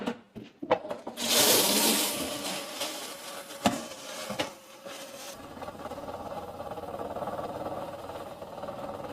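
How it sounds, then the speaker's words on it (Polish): Tap water runs into a paint roller washer: a few clicks and knocks, then a rushing gush of water that softens into a steady churning whir as the washer spins. "odkręcamy wodę"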